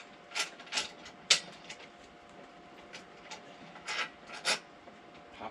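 Metal bolts for a Powersmart 26-inch 212cc snow blower clink and scrape as they are picked up and handled during assembly, a few faint, brief rattling bursts spaced irregularly with quiet gaps between.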